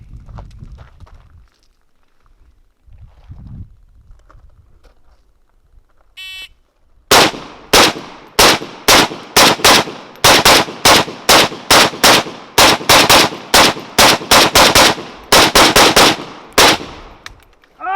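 Rapid bursts of Arsenal 107R AR-type rifle gunfire crack out loud and close during a timed shooting drill, a string of sharp evenly spaced shots that follows a few seconds of quiet background.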